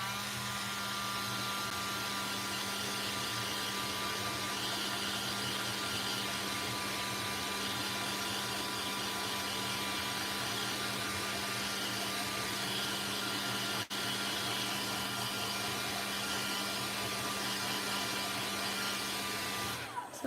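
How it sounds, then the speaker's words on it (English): A hair dryer roars continuously at a steady, loud level throughout, with one brief click partway through. "if I move the hairdryer fast enough, it'll dry faster"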